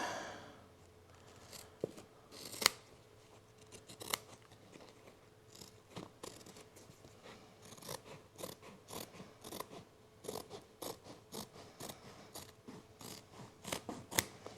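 Scissors cut through material during heated seat installation in a 1996 Jeep Cherokee, a series of sharp close snips spaced irregularly then quickening into a steady rhythm, quiet overall with no talking.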